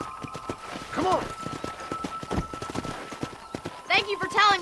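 Horse hooves clip-clop in a steady trot in Red Dead Redemption on Xbox One, fairly close and mixed with speech, a rider's shouts and game sounds, with a whinny near the end.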